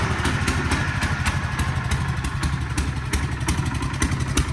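A 1967 Sears Super 12 garden tractor engine runs close and loud at steady high RPM, a rough, rattling small-engine drone with rapid clattering beats throughout.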